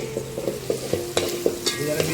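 A spoon or spatula clinks and scrapes in quick, uneven strokes against a pan while Schezwan masala and chicken masala spices temper in hot oil, under a soft, steady frying sizzle.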